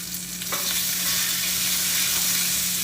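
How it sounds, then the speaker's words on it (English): Pork chops sear in a hot pan just after being flipped, a dense, loud, continuous sizzle that swells after a brief clatter and holds steady throughout. "I'm gonna flip these pork chops. You want to have a nice sear on them"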